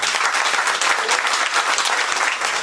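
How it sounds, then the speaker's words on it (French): An audience at a poetry evening in a media library applauds warmly, steady dense clapping from many hands filling the room, close and sustained throughout. "Des applaudissements pour elle."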